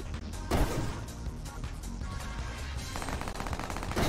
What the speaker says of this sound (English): Look, I'm gonna shoot down towards where Shrek was. Look at the arc of my bullets.